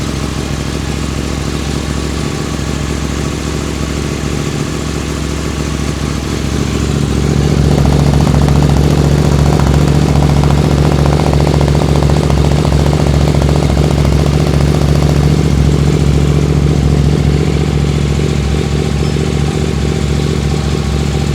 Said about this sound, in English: I don't know if you can hear me over the racket of the bike